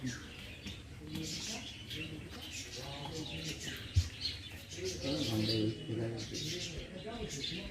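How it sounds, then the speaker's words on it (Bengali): Birds chirp and coo inside an old tile-roofed house, faint, scattered calls under steady conversation and footsteps. "পাখি আছে, আবার আওয়াজ পাচ্ছি।"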